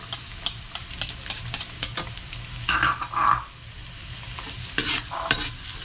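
Red onion sautés in a pan for bringhe, a Kapampangan rice dish. Soft sizzling runs under intermittent scraping and stirring strokes, close and fairly quiet.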